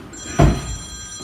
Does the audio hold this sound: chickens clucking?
no